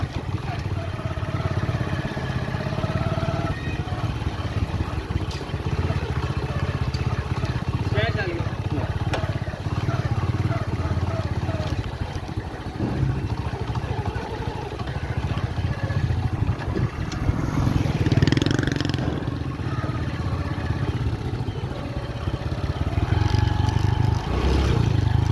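A motorcycle engine runs continuously on a ride to a high school in Jampur, a steady mid-level drone with people talking over it throughout.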